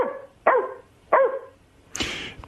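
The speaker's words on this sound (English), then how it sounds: "only one bark." A dog barks close by several times in sharp, evenly spaced woofs, followed by a harsher, noisier yelp-like burst at the end.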